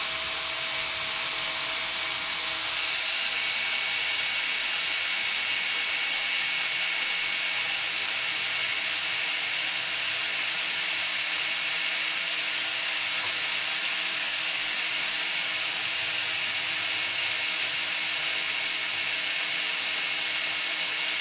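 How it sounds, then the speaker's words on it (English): A high-pitched power drill whines continuously at high speed, steady and loud, grinding through a metal lock cylinder without stopping. "got the drill on high speed"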